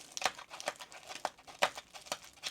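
Blue painter's tape is peeled and crinkled at close range, in a quick series of sharp crackles and rustles with short pauses between them.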